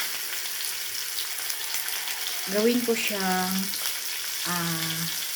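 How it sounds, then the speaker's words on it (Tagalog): Bangus milkfish frying in a pan, a steady broadband sizzle running throughout with someone speaking over it in the second half. "nagpiprito ako ng isdang bangus"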